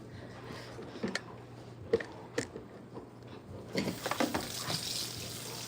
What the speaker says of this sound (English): We're gonna rinse these off.